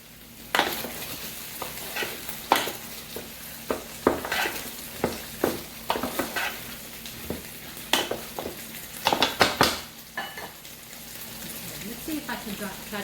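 A spoon stirs shelled eggplant filling with Portuguese sausage in a pan, giving a series of irregular scraping and clattering strokes over a steady low sizzle, close and moderately loud.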